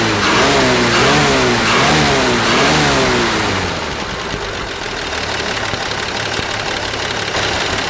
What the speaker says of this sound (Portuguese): O motor já funcionou por uns 10 minutos, maravilhosamente bem